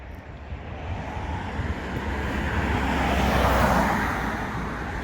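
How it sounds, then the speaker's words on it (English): Cars pass now and then along a quiet village road in Sleights near Whitby, a steady broadband roadway rumble that swells toward the middle as one vehicle passes nearby, with no talking. "Still a couple of cars going up and down, not many at all really."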